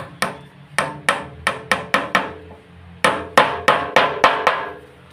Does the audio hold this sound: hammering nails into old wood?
yes